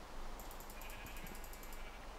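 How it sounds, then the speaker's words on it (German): A Minecraft sheep bleats in short repeated video-game calls, faint and steady against a quiet background hum. "Oh nein, das Schaf greift mich an!"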